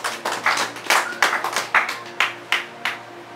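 A church congregation claps in acclamation, about a dozen sharp, fairly even claps in a steady rhythm over a low sustained hum.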